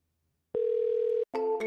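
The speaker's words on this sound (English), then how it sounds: "And the phone's ringing again." A telephone ring-back tone heard while an AI voice receptionist transfers a call to a plumbing service, one long steady tone followed by the start of a second, clear and alone with no talk.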